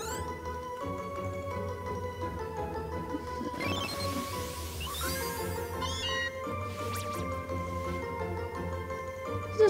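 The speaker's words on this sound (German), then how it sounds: "Und das ist ein winziges, winziges, winziges Mauzi." Meowth's cry in Pokémon Let's Go Eevee, a short cat-like meow over steady, tonal in-game music, with sparkly effects mid-clip and no talking.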